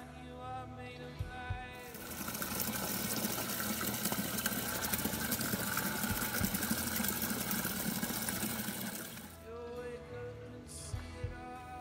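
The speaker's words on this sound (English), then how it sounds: "I just poured some water out of there into there" Water poured from one container into another at home, a continuous splashing, gurgling stream lasting about seven seconds, moderately close, with quiet handling clatter before and after.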